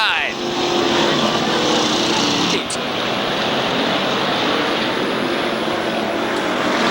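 SK Modified race cars roaring together on a restart at Waterford Speedbowl, a dense loud wall of engine noise that holds steady for several seconds, with commentary over it.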